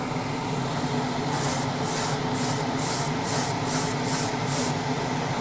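Airbrush spraying light dust coats of paint onto 1:12 Tamiya Repsol Honda RC211V model motorcycle fairings: a steady hiss with a run of short, evenly spaced bursts, close and alone.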